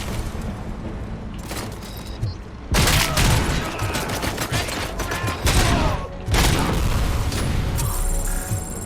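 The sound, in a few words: grenade explosion in RoboCop video game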